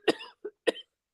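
Three quick, close coughs from one person, the first two running together and a third sharp burst following a moment later, with no talking around them.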